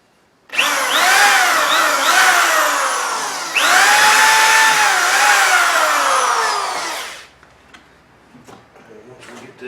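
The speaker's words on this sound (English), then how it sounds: "And then we're going to drill a pilot hole." A power drill boring a pilot hole during a kiosk build whines loudly in two sustained bursts, the pitch dipping as it bites, then winding down to quiet with a few small clicks.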